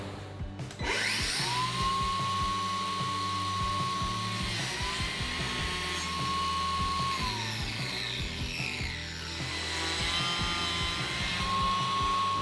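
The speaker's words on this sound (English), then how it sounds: "This will be the first time I'm ever using a biscuit tool." A biscuit joiner cuts biscuit slots during a tiny-home interior build: a high motor whine rises in several separate runs with brief pauses between them, loud and close, with no talk.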